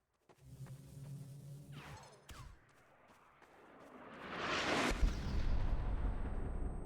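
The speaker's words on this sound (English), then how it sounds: "They're calling in mortars!" Mortar barrage in the video game Gmod Star Wars RP: a couple of sharp thuds early on, then a rising whoosh that swells into a loud, sustained rumbling blast; no talk.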